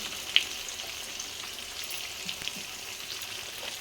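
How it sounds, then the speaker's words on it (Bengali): Chopped onions frying in a large pan with oil, a soft continuous sizzle with a few faint pops and one brief sharp click near the start. "এবার আমি পেঁয়াজটা ভেজে নেব"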